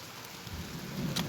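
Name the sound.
rain falling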